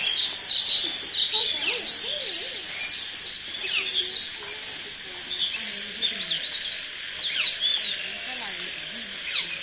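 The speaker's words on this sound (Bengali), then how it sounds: "পাখির অসহায় অবস্থা আছে। ডাকতেছে যে একটা বাচ্চা" Repeated high, thin chirps and calls from a baby bird fallen from a nest broken in a storm, fairly close, with a person talking over them at times.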